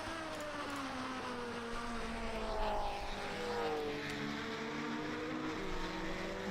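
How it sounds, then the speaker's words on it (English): Simulated 1950s Grand Prix car engine in a racing video game at Dundrod, revving high with tonal harmonics rising and falling through gear changes, steady and continuous throughout. "It makes me wince a little when I hear those gear changes and I hear the revs come up that high"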